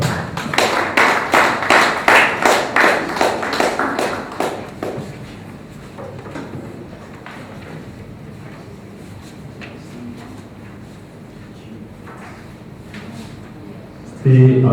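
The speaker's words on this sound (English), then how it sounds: "let's give him a round of applause." A crowd claps in loud, rapid applause for a few seconds, then it fades into quiet room tone with scattered faint sounds.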